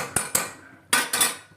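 A spoon scrapes and clinks against a pan while minced meat keema curry is stirred, four sharp metallic strikes in two close pairs, fairly near, with no talk.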